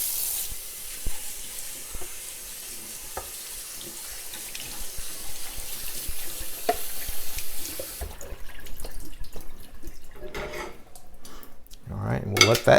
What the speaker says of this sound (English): we're going to actually rinse this chicken